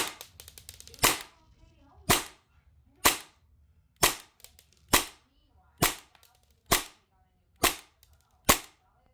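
Airsoft Hi-Capa pistol fitted with an Edge V2 piston firing: nine sharp, crisp cracks at a slow, fairly even pace of about one per second, close and loud, with faint rattling before the first shot.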